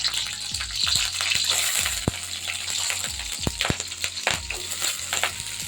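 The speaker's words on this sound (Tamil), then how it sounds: "பொரிஞ்ச உடனே நம்ம கொஞ்சம் வெங்காயம் வெள்ளைப்பொடியும் போட்டு வதக்கிக்கலாம்." Chopped onion and garlic sizzle in oil with crackling curry leaves, sharp pops and scrapes of stirring punctuating a close, steady frying hiss with no speech.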